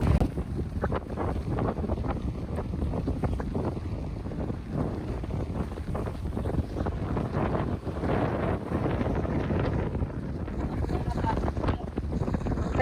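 Strong wind buffets the microphone beside the sea on a cold, windy fishing day, a steady low roar with gusty rumbling and faint waves underneath, continuous and fairly close.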